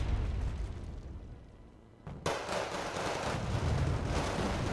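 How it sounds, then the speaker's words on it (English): Bombs explode in Wargame Red Dragon as a dense, rumbling barrage of blasts, fading slightly before one sharp, heavy impact kicks off a fresh roar of booming detonations. "Just a lot of firepower, lots of boom booms."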